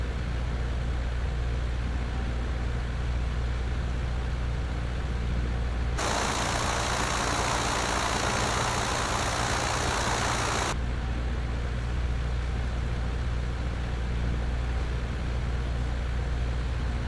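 A small Piper Cub light aircraft's engine idling and taxiing in Flight Simulator X, a steady drone throughout with a louder, brighter surge of throttle in the middle before settling back.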